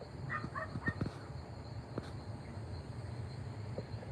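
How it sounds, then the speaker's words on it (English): A cicada buzzes steadily in the background, a continuous high drone running throughout under a few faint knocks and rustles. "It's a cicada in the background."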